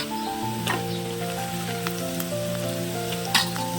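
Potatoes frying in a pan for palakura potato curry, a steady bright sizzle with a few sharper crackles and stirring clicks, heard alone and close.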